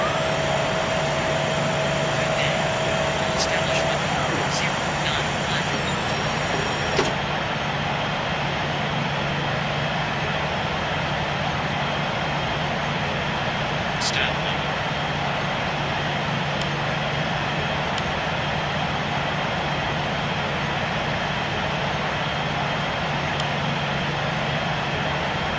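Continuous, even roar of an Airbus A350-1000 on landing approach to London Heathrow during a test flight, heard steadily from inside the aircraft, with a few faint high tones and one brief click.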